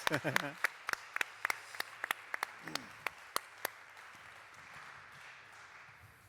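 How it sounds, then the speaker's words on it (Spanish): A small audience at a talk on cinema and horror gives faint, sparse applause. Separate claps ring out and thin away over a few seconds as voices murmur underneath. "Aplauso."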